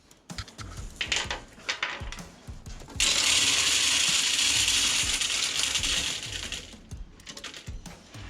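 Small soft-edged pebbles sloshing and rattling in methylated spirits inside a rusty container, agitated to scour rust from a Ford F100 Bullnose V8 part; a steady loud churning rattle that runs for several seconds after scattered clicks and handling noises.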